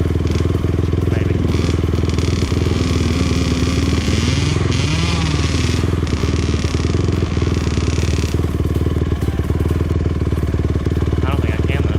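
Motorcycle engine running loud and steady throughout while a rider attempts a wheelie, with pitch rising and falling as the throttle works, plus occasional clatter and thumps; voices are present underneath.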